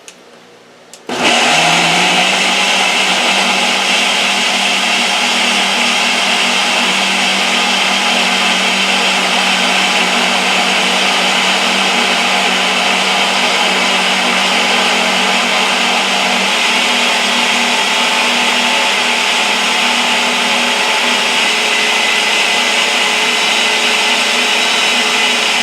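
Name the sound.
blender mixing cranberry strawberry banana smoothie on boost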